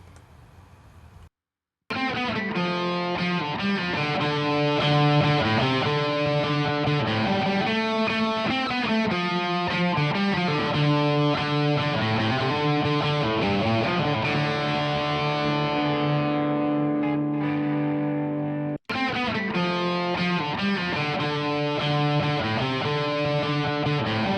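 Distorted electric guitar playing within a full music mix, loud and continuous with a steady rhythmic part, briefly cutting out near the start and again for a moment near the end.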